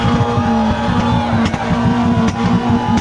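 Loud modified Suzuki Swift racing nearby at a tuner car meet in Mumbai, its engine roaring steadily with a rough, pulsing exhaust note throughout and no talking.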